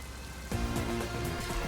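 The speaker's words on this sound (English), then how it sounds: "Well, we sure got some heavy rain again, huh?" Heavy rain in Master Detective Archives: Rain Code, a steady soft patter of downpour that swells slightly partway through, faint and continuous with no speech.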